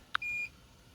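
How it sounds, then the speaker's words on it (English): A single short electronic beep from a Lumary 20-inch smart ceiling fan, followed by a brief steady higher tone, quiet and close, then near silence. "You heard the beep of it."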